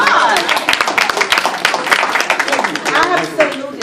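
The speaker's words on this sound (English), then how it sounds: "Come on, let's give them a round of applause." Audience applause at a Toastmasters meeting, a dense steady patter of many hands clapping throughout, with a voice faintly under it.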